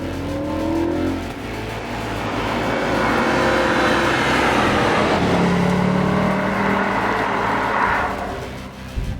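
A 2015 Audi RS5 engine roars loud and close while driving, its note swelling and climbing steadily through a sustained rev that builds over several seconds, with no voices heard.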